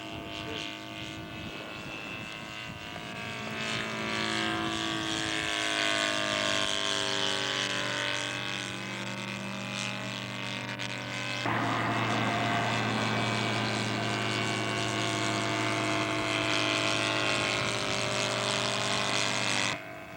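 A radio-controlled scale model of Billy Bishop's World War I fighter, weighing 40 pounds, makes a fly-past at a scale aircraft show; its engine drone swells, shifts pitch and roars loudly close by, then holds steady.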